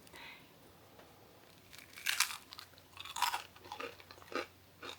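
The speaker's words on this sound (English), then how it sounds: "if you hear, these cookies are pretty crunchy" Crunchy keto chocolate Oreo-style cookie being chewed close to the mic, a series of sharp crisp crunches at an uneven pace, with quiet pauses between bites.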